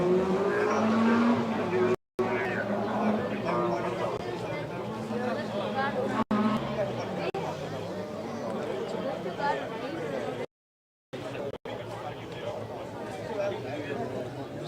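Rally cars race along a stage of the Rallye Sur do Condado in Salceda de Caselas, engines roaring loudly with revving and passing sweeps, while people chatter and talk nearby throughout.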